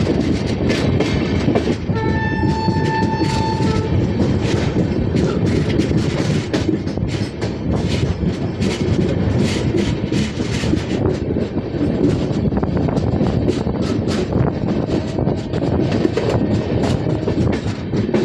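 A long passenger train climbs the Khandala ghat section with one locomotive pulling at the front and three pushing from behind. The rumble and clickety-clack of the wheels are loud and constant, and a horn sounds briefly early on.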